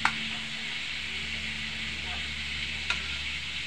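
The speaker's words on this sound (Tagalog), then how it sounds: "hinahalo habang yung tilapia po ay piniprito ko pa" Tilapia frying in a pan with oil, a steady hiss and sizzle throughout with a couple of faint clinks from stirring.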